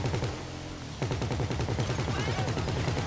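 Rapid automatic gunfire in the video game GTA 5, dense continuous bursts at close range that pause briefly and then resume, with voices faintly mixed in.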